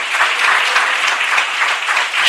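Congregation clapping loudly and steadily at a church service, a dense continuous wash of many hands with no voices over it.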